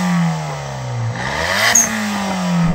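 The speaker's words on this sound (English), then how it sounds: "let's rev up these little engines, these little 3-pot turbos" Small turbocharged three-cylinder car engines revving hard at a drag race, a rising then falling engine note with a whooshing turbo hiss and a sharp blow-off release, close and loud.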